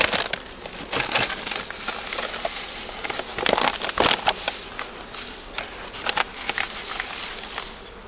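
Honey bees in a screen-bottomed hive being readied for winter, a close, dense buzzing hum with crackly, crinkling bursts and fluttering peaks throughout.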